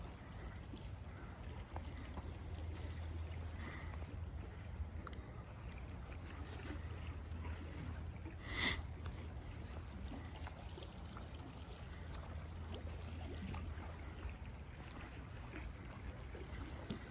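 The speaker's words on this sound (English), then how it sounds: "The water's pretty deep here, but moving fast. And so it's slopping around." Fast, deep water sloshes and rushes in a steady, continuous wash at night in Indian Mound Park, with one brief splash midway, heard from nearby at low volume.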